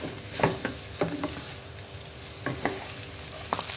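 Shrimp fried rice stirred and sizzling in a pan, with rice just added: a steady fry hiss runs throughout while several scraping stirs land at irregular intervals, close and moderately loud, with no voices.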